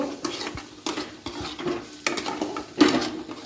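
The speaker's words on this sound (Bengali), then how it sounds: "ধনে গুঁড়ো দিয়ে এটাকে ভালো করে ভেজে নেব" Fennel seeds and ground coriander fry in a pan for yogurt chicken while a spoon stirs and scrapes, with repeated metallic clinks against the pan over a low, steady background.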